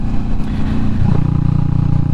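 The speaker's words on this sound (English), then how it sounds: "And I'm enjoying the exhaust." Kawasaki Vulcan S motorcycle fitted with a Delkevic slash-cut exhaust, running on a road loop near Clevedon; a steady, loud, close engine drone that swells slightly partway through, with no talk over it.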